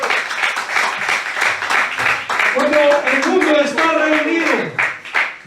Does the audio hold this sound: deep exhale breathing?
no